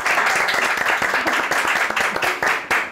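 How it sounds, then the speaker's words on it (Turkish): Studio audience applauding Nimet Hanım on a Turkish cleaning competition show, a dense, steady burst of clapping filling the whole stretch with many hands close together. "yüksek yani ses oranından dolayı Nimet Hanım'ı da alkışladık"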